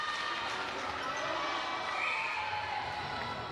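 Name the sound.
netball crowd calling out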